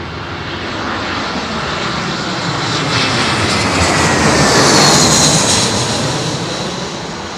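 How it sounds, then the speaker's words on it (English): A large jet airliner roars overhead on final approach to Heathrow's runway 27L, a loud, broad engine rumble that swells to a peak mid-pass and then slowly eases, with no voices. "That's quite a big jet, that."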